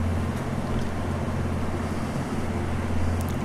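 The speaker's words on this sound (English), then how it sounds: "I listen to the waves" Steady ocean surf on a beach, a constant dense wash of breaking waves with a low rumbling undertone, loud and unbroken throughout, no voices.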